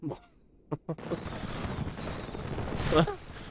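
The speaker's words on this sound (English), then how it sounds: "They had the fireworks ready to go." Fireworks in the video game Kingdom Hearts II burst and crackle in a dense, sustained rush of pops and bangs, with a louder cluster near the end, following a few short voice sounds at the start.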